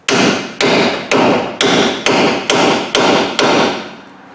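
A hammer repeatedly taps the ball joint stud on a Ford F-250, producing about nine evenly spaced sharp metallic blows close up, each ringing briefly before the next.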